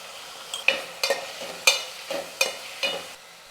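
Onions and tomatoes with a little salt being sautéed in a pan for sambar, a soft sizzle broken by about six sharp scraping strokes of a spoon stirring at a regular pace, close and clear with no talking.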